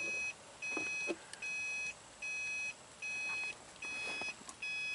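A multimeter sounds its continuity beep while testing a wire in a Subaru's wiring. It gives a series of about six steady electronic tones, each roughly half a second long, separated by brief gaps, over a quiet background.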